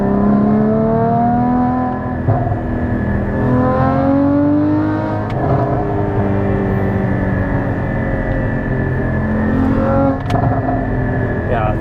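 A Porsche Cayman GT4 or Lotus Evora GT engine pulls steadily under acceleration on twisty roads, a continuous rising drone heard from inside the cabin, with people talking over it throughout.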